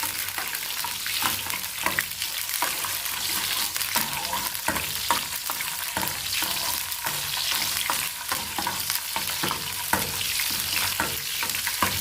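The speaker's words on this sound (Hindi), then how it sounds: "इसको 2 मिनट भूनने के बाद हम इसको दाल के ऊपर डाल देंगे।" Chopped green chilies frying in a pan for dal tadka, a steady loud sizzle with repeated stirring and scraping strokes throughout, no voices.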